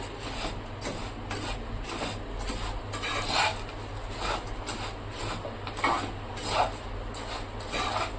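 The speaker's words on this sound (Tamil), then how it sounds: "சிம்மரில் வச்சு நல்லா நேரமாக வர அளவுக்கு நம்ம வறுத்துக்கலாம்" Bread pieces for bread halwa, with cashews, roast on a low flame in a pan, giving a steady dry scraping and rasping as they are stirred, with repeated rhythmic scrapes throughout and no talk.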